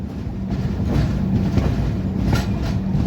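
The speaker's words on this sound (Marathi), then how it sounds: "आणि करमळी स्टेशनवरून आपली ट्रेन जी आहे ती सध्या निघालेली आहे." Mandovi Express pulling out of Karmali station on the Konkan Railway in the monsoon: a loud, steady low rumble of rolling rail cars with faint rhythmic wheel clatter, close and continuous, without voices.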